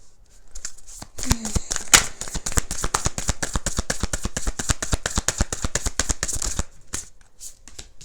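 Tarot cards being shuffled in a dense, steady run of crisp flutters and riffles for several seconds, close and fairly loud, tapering off near the end.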